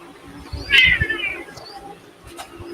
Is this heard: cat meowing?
yes